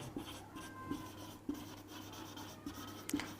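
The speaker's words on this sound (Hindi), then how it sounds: "अगर मैं इधर इस तरह लिख रहा हूँ" Chalk or marker writing on a board during a Class 6 maths lesson, heard as faint intermittent scratchy strokes and taps in a quiet room, with a steady low hum underneath.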